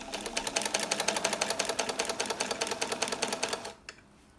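A sewing machine stitching fabric at close range with a fast, steady mechanical clatter of needle strokes, running for several seconds before stopping abruptly, followed by a single faint click.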